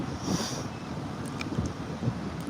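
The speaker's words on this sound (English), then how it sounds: "it's windy today" Gusty wind buffets the microphone with a low, rumbling roar that swells and dips.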